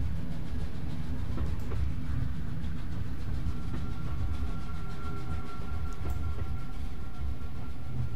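A train ride in the puzzle video game The Room Three gives a continuous low rumble with a steady mechanical rattle. It stays even and loud throughout.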